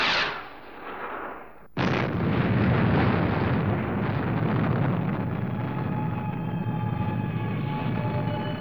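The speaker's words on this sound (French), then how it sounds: "Mise à feu." A cartoon rocket, the Fireball XL5, ignites with a sudden loud blast that turns into a sustained roaring rumble of engine thrust as it launches, following a brief fading hiss.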